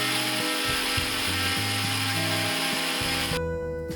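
Electric grinder whirring loudly as it pulverises dried chili and salt into powder, a steady motor drone with shifting pitch that cuts off abruptly near the end.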